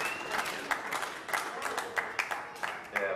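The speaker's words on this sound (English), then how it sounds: "Yeah, pity applause, I can tell." Sparse, scattered clapping from a small audience right after a rope magic trick on stage, a few claps popping out over a thin, quiet patter, with some faint murmuring underneath.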